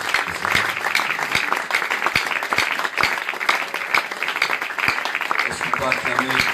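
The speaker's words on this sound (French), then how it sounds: "Vous avez applaudi." A church congregation applauding and cheering loudly at a worship service, a dense steady wash of clapping with sharp claps standing out and voices mixed in throughout.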